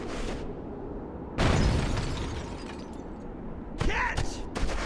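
Heavy gunfire in Halo CE, bursts of weapon fire and blasts in a firefight, loud and sustained with sharp cutoffs, and a voice shouting amid the noise.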